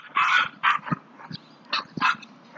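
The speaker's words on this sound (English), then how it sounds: "Sorry about that, the dogs are in the background." Several dogs bark in the background, a run of short yips and barks in quick irregular bursts, fairly distant and moderately loud, with no speech over them.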